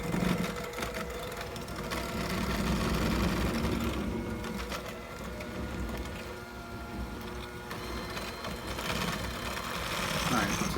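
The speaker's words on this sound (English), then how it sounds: "to that we are going to continue to blend at medium speed, about 4 to 5 minutes, until it gets really good and creamy" Electric mixer blending snickerdoodle cookie dough at medium speed, a steady continuous motor whir running throughout, close and moderately loud with faint kitchen sounds.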